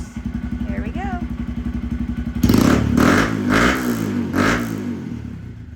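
A 2022 Honda Grom with a Yoshimura RS9T exhaust idles with a fast, loud putter, then is revved hard in several rising bursts, close by, with voices talking over it.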